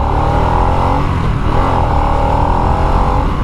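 Harley-Davidson Nightster motorcycle engine running in sport mode, a loud, steady, close rumbling drone with slight swells in revving and no pauses.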